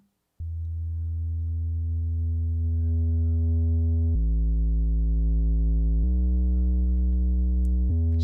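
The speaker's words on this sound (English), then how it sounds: "I'm just going to use a tube distortion and pump some heat into our sine wave." A pure sine tone with tube distortion plays as a sustained bass note. It is bright and harmonically rich and steps through three or four held pitches in even blocks, steady and loud, with no other sound.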